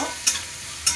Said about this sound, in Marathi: ते पण असे परतायचे टॅमॅटो, ते पण शिजेपर्यंत व्यवस्थित त्याचे तेल सुटेपर्यंत टॅमॅटो